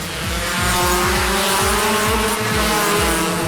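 Race cars roar past at a Toyo Tires motorsport event in Phuket, loud, close engines with rapid rising and falling revs and gear changes, tires squealing, and no talk over the sound.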